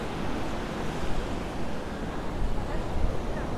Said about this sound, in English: there's lots of people actually in the sea here, really enjoying these waves